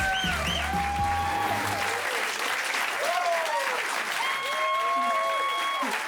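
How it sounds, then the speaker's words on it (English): A theater audience at a magic show bursts into loud, dense, sustained applause that runs steadily for several seconds, with scattered whoops and cheers mixed into the clapping. "let's give Kelly a round of applause as she makes her way to her seat."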